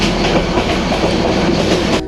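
A train on the line from Dhaka to Cox's Bazar rolls along the rails with a loud, steady rumble and a rhythmic clickety-clack of wheels over the joints, heard from inside the carriage.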